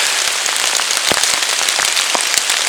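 Heavy rain falling in a forest, a loud, dense, steady hiss of drops striking leaves and the ground, with sharper close patters standing out throughout and no voices.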